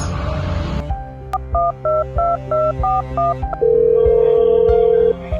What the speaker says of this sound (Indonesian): Bagaimana kalau kita hubungi Bung Karno terlebih dahulu?